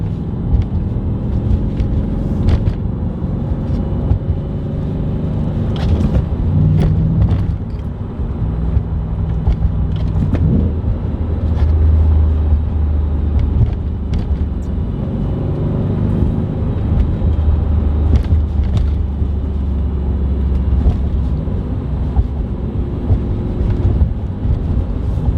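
A B7 Audi RS4 on KW suspension rolls over road bumps, heard from inside as a continuous low road and engine rumble broken by repeated thumps and knocks from the suspension.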